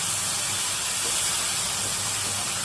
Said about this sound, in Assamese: নৰসিংহৰ যিখিনি পেষ্ট সেইখিনি ইয়াতে দি দিব, আৰু লাহে লাহে এইখিনিও অলপ ভাজি লওক